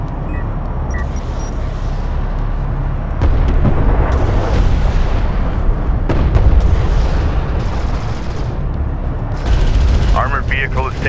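Battle sounds from Homeworld: Deserts of Kharak, set in the Beladine Dune Sea: a continuous, loud barrage of explosions and weapons fire with heavier blasts around the middle, layered under terse radio voice chatter.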